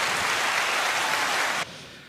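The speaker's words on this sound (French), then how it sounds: "On va l'applaudir." Applause from a circus audience, dense continuous clapping that stays loud and even, then drops sharply and tapers away at the end.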